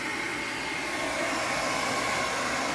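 A heat gun blows hot air steadily onto the intercooler piping of a boosted F23 Honda Accord, giving a constant close hiss of rushing air that holds level for the whole stretch with no talk over it.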